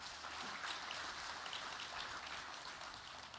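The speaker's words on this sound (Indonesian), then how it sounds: "Boleh tepuk tangan yang meriah." Applause from an audience at a presidential inauguration of 1,061 village cooperatives in Indonesia, a steady wash of clapping that sounds fairly distant and faint and carries on without a break.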